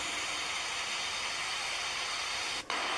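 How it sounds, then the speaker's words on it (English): Steady, broadband white noise from a sleep app on an iPhone 4S hisses evenly throughout, with a brief dip near the end. "White Noise"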